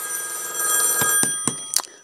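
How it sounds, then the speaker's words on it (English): A telephone rings indoors, a bright sustained tone over low room hum, broken by a few sharp clicks toward the end; no one speaks. "the phone rings"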